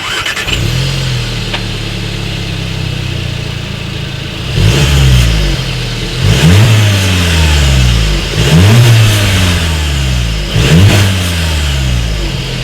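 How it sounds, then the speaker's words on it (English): A 2017 Volkswagen Golf engine idles, then revs hard several times in a steady rhythm, the dual-tip exhaust roaring up and falling back loudly and close. "here is that exhaust clip"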